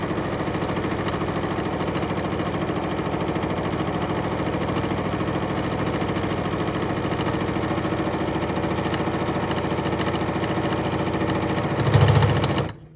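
A sewing machine stitches a fabric trick or treat bag in one long, steady, even whir, with a brief louder bump near the end before stopping.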